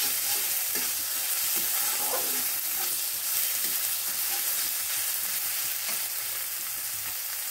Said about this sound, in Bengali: সুন্দর করে এবার ভেজে নিচ্ছি।